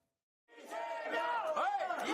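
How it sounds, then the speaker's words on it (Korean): Party supporters cheer and shout as the Democratic Party leader arrives at a rally, a dense crowd roar that swells and holds steady, with mixed voices calling out. "당원들의 열렬한 환호 속에 등장한 이재명 더불어민주당 대표"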